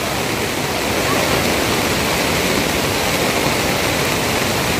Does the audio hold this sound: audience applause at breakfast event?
no